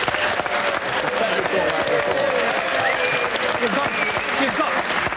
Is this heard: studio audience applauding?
yes